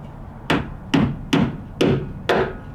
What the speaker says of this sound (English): It does take some effort to get that snapped in there.